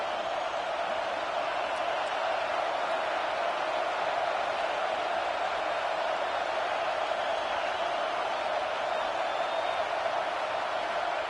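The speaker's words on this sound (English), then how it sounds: "It's early, but this crowd is fired up. Listen to this noise here." A stadium crowd roars steadily in an NCAA college football video game, a dense, continuous wash of distant cheering that holds at an even level throughout.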